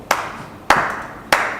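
Three sharp, separate hand claps spaced about half a second apart, crisp and close in a quiet room, used as an applause effect in a storybook reading with no voices.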